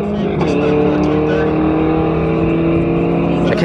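A Golf R and V8 cars, including a Camaro, accelerate hard side by side in a roll race, a loud sustained engine roar with a shift near the start and end, under excited talk.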